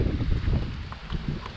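Strong wind on the Florida coast buffets the microphone with low, rumbling gusts that rise and fall, loud and close, with faint lighter rustles above.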